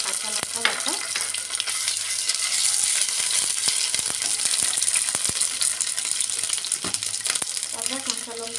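Ginger and green chili paste sizzles loudly in hot oil with whole spices such as bay leaf, fennel, cardamom, cinnamon and cloves, with steady frying hiss, scraping stirs and occasional crackles under a voice.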